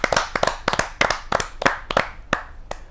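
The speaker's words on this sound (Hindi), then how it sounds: "आप सबकी मधुर तालियों की आवाज से" A small audience at a Hindi poetry gathering claps to welcome a songwriter from Meerut, a handful of close, loud individual claps in a loose rhythm that thins out near the end.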